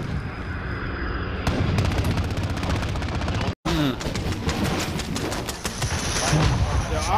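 Kar98k sniper rifle shots in a first-person shooter video game, several sharp loud cracks scattered through dense gunfire and game noise, with voices talking over the action.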